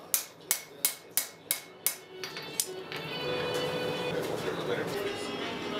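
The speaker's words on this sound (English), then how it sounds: "At this point, I finished the rough forging" Hammer forging a billhook, seven sharp ringing blows in an even rhythm, then steady roaring noise from the forge or shop with a voice talking underneath.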